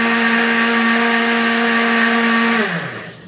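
A blender whirs steadily at full speed, churning paper pulp mixed with black paint, its motor holding a constant pitch before spinning down near the end.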